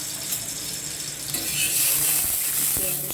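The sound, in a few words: oil sizzling in a frying pan with mustard greens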